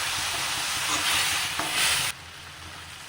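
Boiled sweet potato being stirred into samosa masala in a hot pan: a loud, continuous sizzling hiss with soft scraping, close by, which drops off abruptly near the end.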